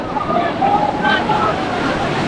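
Ocean surf rolls in at Digha beach, a broad steady wash of breaking water close by, with a busy crowd and voices talking over it throughout.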